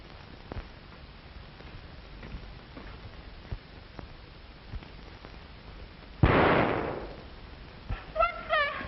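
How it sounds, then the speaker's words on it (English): A single loud gunshot-like burst rings out once over a quiet, crackly background in a 1932 crime drama, followed by faint voices. "You heard that shot, didn't you?"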